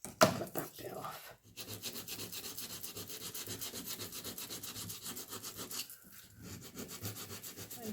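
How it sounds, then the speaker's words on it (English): An emery board rubs steadily against the edge of a paper napkin, a continuous close, scratchy rasping with rapid even strokes, briefly pausing partway through. "You can cut the napkin out if you want, but I prefer to use an emery board on it."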